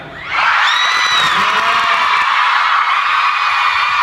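A concert audience at a Thai fan meeting erupts into loud, sustained screaming and high-pitched cheering, a dense wall of shrieks and whoops rising quickly and holding at full volume.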